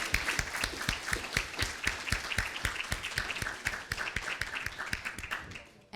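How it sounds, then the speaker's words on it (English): Audience applause for the panelists at a policy panel session, a dense, steady wash of many hands clapping that fills the whole stretch at even loudness before cutting off at the end. "Let's give them a round of applause"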